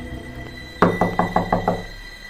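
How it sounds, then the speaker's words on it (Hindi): Six quick knocks land on a door in a rainy-night horror story, sharp and evenly spaced, standing alone over a faint steady background hiss. "खलल तब पड़ा जब दरवाजे पर अचानक दस्तक हुई।"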